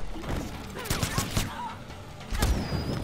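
Grenades in Mortal Kombat X burst as a quick cluster of sharp blasts and thuds followed by another heavy burst, with excited tournament commentary talking over the fight.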